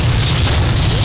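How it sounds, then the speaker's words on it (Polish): A loud, dense explosion rumble from the 007 Quantum of Solace shooter game fills the whole short moment as one continuous booming roar. "Jeszcze więcej wybuchów."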